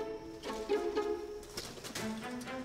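A pigeon coos and flaps at a Malawi wildlife rescue as it is caught, giving a few close, soft cooing calls with brief wing rustles and no talking.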